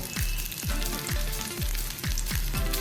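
Green chillies, two garlic cloves and a little ginger sauté in hot oil, giving a close, steady sizzle broken by about seven regular stirring strokes that scrape through the pan.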